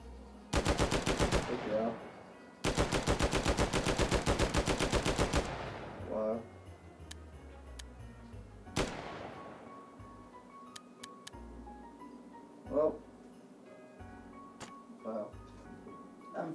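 Full-auto gunfire from a weapon in the VR shooting game H3VR, two loud sustained bursts of rapid shots followed by scattered single clanks and clicks, with a voice talking quietly underneath.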